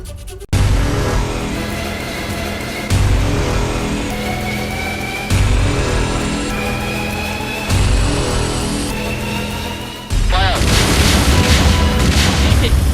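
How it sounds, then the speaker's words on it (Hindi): A series of heavy booming blasts from drone bombs, rocket launchers and IEDs during the Anantnag military encounter, roughly every two to three seconds, each followed by rumbling, with a louder, rougher burst near the end. "कितना जबरदस्त विस्फोट इस समय यहाँ पे हो रहा है।"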